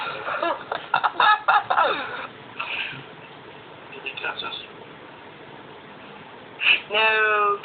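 A cat gives a short, clear meow near the end, following a stretch of people talking and laughing in the room.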